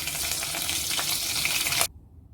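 Curry leaves dropped into hot oil for Kerala lime pickle, a loud, bright, close sizzle and crackle that holds steady for nearly two seconds, then cuts off abruptly to quiet.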